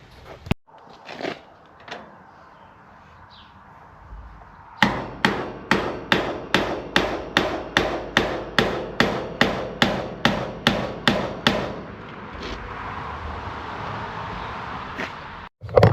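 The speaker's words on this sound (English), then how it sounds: "hit the top of it with a hammer, then she'll go down" A hammer strikes a wrench fitted on a stuck half-inch tensioner bolt of a New Holland 479 haybine's sickle drive, about fourteen sharp metallic blows in a quick, even rhythm, close and loud, with a few scattered clanks before and after.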